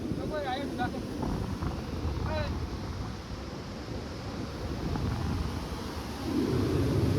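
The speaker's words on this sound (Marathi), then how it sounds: "पहा मित्रांनो बघा किती पूर आलेलं आहे" Floodwater rushing through the swollen Punad river, a steady broad roar heard under outdoor wind buffeting, with brief voices near the start.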